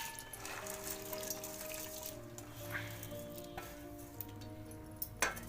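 Market-bought puja items get washed in clean water: faint splashing and trickling with small clinks and knocks of objects in a vessel, quiet and close, with a sharper clink near the end.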